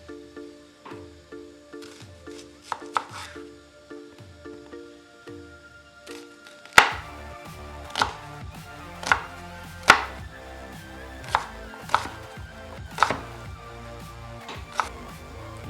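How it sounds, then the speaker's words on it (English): Seasonings for stew peas chopped with a knife, starting with quick soft rhythmic taps, then slower, louder distinct chops landing about once a second, close up and with no talking. "For my stew peas, I like to chop up the seasonings as well"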